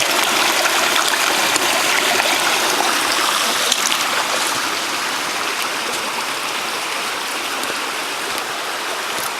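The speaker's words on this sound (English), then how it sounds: "Water's flowing again." Water from a creek rushes steadily through a ram pump, a continuous loud hiss and trickle with no talk.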